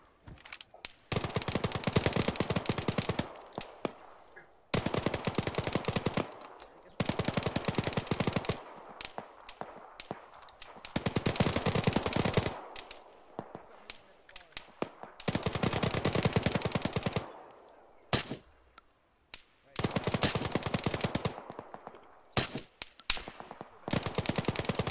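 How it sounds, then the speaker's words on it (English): Gunfire in the military shooter game Arma 3, loud close bursts of automatic rifle fire in repeated clusters separated by short pauses and a few single sharp shots, continuing for about twenty-five seconds without talking. "That guy's firing right back at me"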